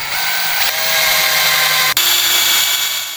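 A power drill pre-drills a 2x2 wood board for a screen door chicken coop. Its motor whines steadily and loudly up close for about three seconds, with one brief dip partway through.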